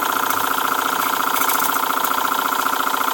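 A Boucher S62 model steam engine fed by a CF2 boiler runs steadily. Its rapid, even chuffing pulse is loud and close, with a constant hiss and no talking.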